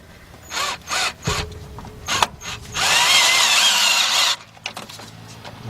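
A power tool drives a 10 mm socket on the water pump of a 2006 Chevy Express G van, running in several short bursts and then one sustained whir up close, with no talking.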